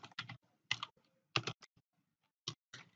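CSS code being typed on a computer keyboard, close, crisp key clicks arriving in short uneven clusters with brief pauses between them, heard alone.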